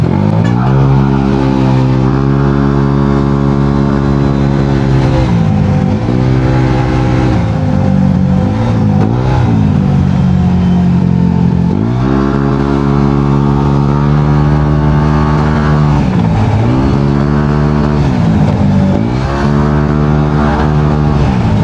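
A Yamaha Aerox V1 scooter rides through street traffic, its engine buzzing loud and close in repeated rising and falling surges as the throttle opens and closes over about twenty seconds, with no talk.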